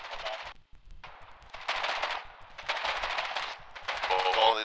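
Video game gunfire in Foxhole, an online war game: rapid automatic bursts crackle in repeated stretches, loud and close, with short gaps between volleys and no clear talking over them.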